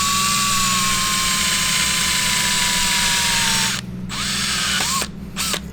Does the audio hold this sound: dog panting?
no